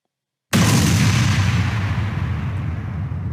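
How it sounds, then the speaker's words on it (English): A copyright-free explosion sound effect bursts in abruptly after a moment of silence, a loud deep boom followed by a long rumbling roar that slowly fades while staying heavy throughout. "And so if I play the scene back, it plays the explosion."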